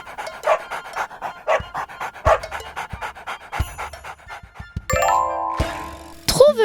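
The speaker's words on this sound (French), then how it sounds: "Le chien." A dog pants in quick, steady, breathy puffs up close for several seconds, then a doorbell-like ding-dong chime sounds.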